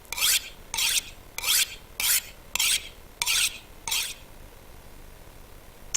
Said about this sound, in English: So, knife, it's not actually in that bad condition, but I am going to go ahead and sharpen it.